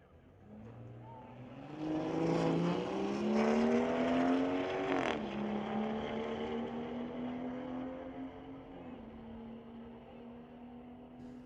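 Two BMWs, a 2018 and a 2020 model, launch off the line at Mission Raceway, engines revving hard through rising gear pulls and then fading as they run away down the strip, with no talking.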